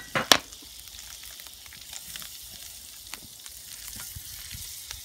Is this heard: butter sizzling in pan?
yes